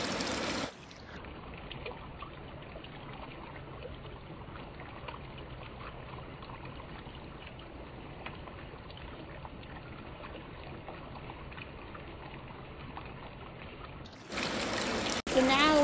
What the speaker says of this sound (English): It's like a waterfall